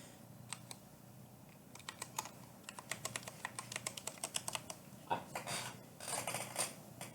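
Rapid clicky keystrokes on a mechanical keyboard, either a Ducky or a Corsair, tapping in quick bursts and then a denser flurry of clacks near the end, close and alone without talk.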